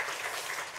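An audience applauds, with a brief dense wash of clapping that holds steady and moderately loud throughout and has no voices over it.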